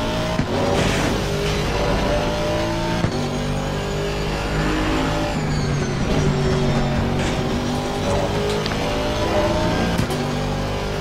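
Race car engines in Assetto Corsa Competizione at Laguna Seca, with Porsches in pursuit, holding a steady, loud, close engine roar that rises and falls through gear shifts, with no speech.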